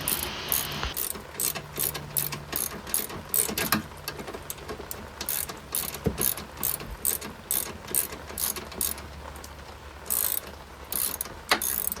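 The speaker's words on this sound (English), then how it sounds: "So we've just removed some bolts on the bottom of the bumper." Rapid ratchet clicking from a socket wrench undoing bolts under the front bumper of a Fiat 500 raised on axle stands, heard as bursts of close, sharp clicks with short pauses and no talk.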